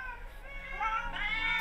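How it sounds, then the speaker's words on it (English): A short stretch of many cats meowing at once in the video game The Excavation of Hob's Barrow, a thick cluster of wavering cries that swells louder toward the end. "Hobbs Barrow is full of cats."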